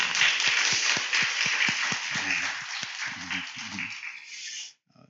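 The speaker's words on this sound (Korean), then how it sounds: "우리 박수로 한번 서로 축복하겠습니다." Church congregation at a New Year early-morning prayer service clapping together, a lively burst of mixed individual claps over a hall-wide wash that fades out abruptly near the end.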